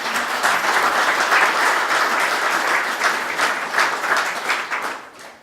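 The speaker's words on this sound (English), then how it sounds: "Could I have a round of applause for those people?" An audience at a sports hall of fame grand opening at Saginaw Castle Museum gives a brisk, dense round of applause that fills the room and tapers off near the end.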